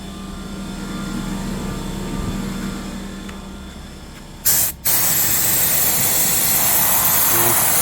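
Spray gun applying paint to Honda Element trim, a loud steady hiss running throughout with a brief break near the middle before the spraying resumes.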